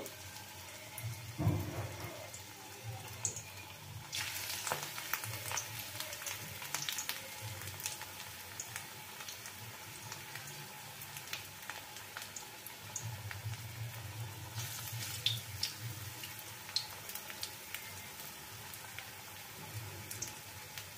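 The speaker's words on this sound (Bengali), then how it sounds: "তবে এখন তেলটা বেশ ভালো মতো তেতে গেছে তাই আমি ফ্লেমটা কিন্তু লো করে দিলাম নইলে সবগুলো দিতে দিতে পুড়ে ধরবে আর এইভাবে আমি বড়াগুলো ভেজে নেবো" Gima leaf fritters frying in hot oil over a lowered flame, giving a steady close sizzle and crackle with occasional louder bursts and clatter throughout, and no talking.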